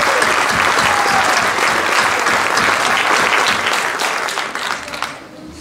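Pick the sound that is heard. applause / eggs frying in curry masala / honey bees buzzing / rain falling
applause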